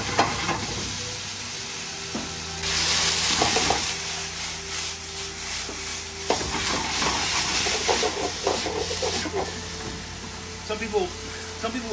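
Onions sizzle in a hot pan as stock is poured in to deglaze it, sending up a loud hiss and bubbling steam. Stirring scrapes run under the steady frying.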